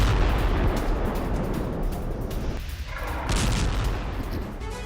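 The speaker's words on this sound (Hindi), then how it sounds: "विस्फोटकों के जरिए टनल और हथियार गोदाम को उड़ाया।" Explosives set by the Israeli army blow up tunnels and weapons warehouses in Gaza, giving a dense, continuous roar of booming, crackling blasts and heavy rumble throughout, with no voices.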